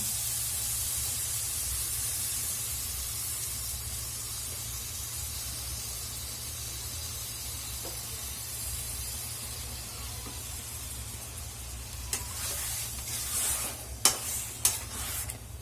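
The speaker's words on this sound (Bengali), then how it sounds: "দু মিনিট কষে নিয়েছি এখন নারকলের দুধটা দিয়ে দেব" Coconut milk poured into prawns cooking in a pan for a prawn malai curry, a soft steady sizzle with a low hum underneath, then a few sharp clinks and scrapes of a utensil toward the end.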